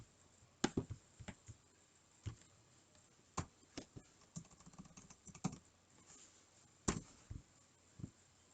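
Scattered keystrokes on a computer keyboard, a dozen or so sharp clicks in irregular bursts and pauses, quiet and close with no voices.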